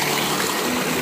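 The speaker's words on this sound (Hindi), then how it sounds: "ट्यूबवेल लगा हुआ है ये उसका आप पानी देख सकते हैं" Water gushing steadily from an agricultural tubewell driven by a 15HP solar-powered motor, a loud, close, continuous broadband rush lasting about a second with no talk.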